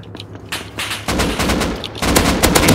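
Rapid automatic gunfire from the video game Rust crackles in dense, loud bursts, with a short pause before the shooting resumes even harder.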